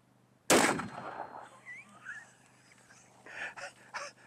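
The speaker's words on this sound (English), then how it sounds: "Let's see if some soft points out of the 300 Win Mag can do any damage to the head." A single sharp rifle shot from a 300 Win Mag firing soft-point rounds at the head of a homemade ballistics gel torso with scrap metal armor, a loud crack with a short decaying tail, followed by faint scattered outdoor sounds.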